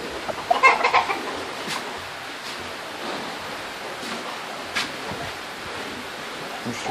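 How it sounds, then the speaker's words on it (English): Roosters at a house in Costa Rica cluck and call in a short cluster early on, fairly close, over a steady rushing outdoor background. "Here's my uncle's roosters."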